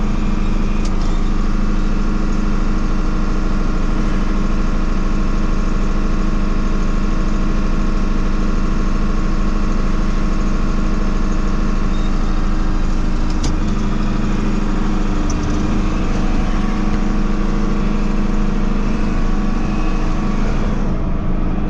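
A farm tractor's engine idles steadily and continuously, close and loud, with a constant low drone and no voices, just after the planter is lowered as rain approaches.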